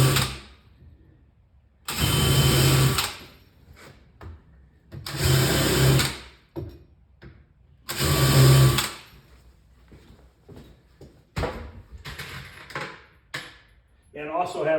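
A drill countersinks screw holes in the wood of a Pac-Man arcade cabinet in three loud, close bursts of a couple of seconds each, with quieter handling clatter and brief knocks in between.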